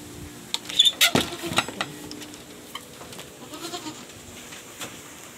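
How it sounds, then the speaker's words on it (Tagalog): A large goat bleats a few times at moderate distance in a farm pen, short nasal cries clustered early, then quieter scattered bleats over faint background noise. "Pero malaking kambing ho yan."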